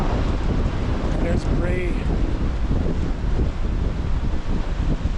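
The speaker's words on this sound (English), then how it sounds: "Very windy for the old hat." Strong wind buffeting the microphone on the Bray Head coastal walk in Co. Wicklow, a constant loud roar throughout, with someone speaking briefly over it.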